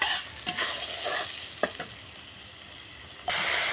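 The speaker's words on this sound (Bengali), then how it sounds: "কেটে রাখা আলু নুন হলুদ দিয়ে তেলে ভেজে নেব।" Cut potatoes fry in oil with salt and turmeric, giving a soft, steady sizzle marked by a few sharp stirring knocks and a sudden louder burst of frying near the end.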